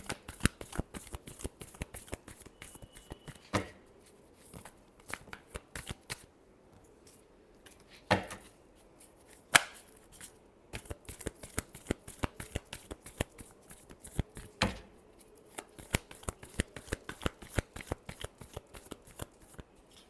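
Tarot cards shuffled by hand in a long run of quick riffling bursts and soft slaps, close and fairly loud, with brief pauses between rounds and no talking.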